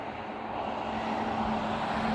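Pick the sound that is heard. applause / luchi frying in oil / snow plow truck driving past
snow plow truck driving past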